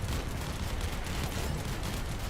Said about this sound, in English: Maybe you just like hearing the explosions, pal,